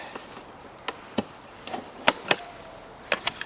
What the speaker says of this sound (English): don't be afraid to pull quite hard on this. It might sound like it's splitting